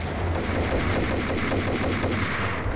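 Colt Commando assault rifle firing in Max Payne, a dense, continuous burst of loud close gunfire running the whole stretch without pause, with no talk over it.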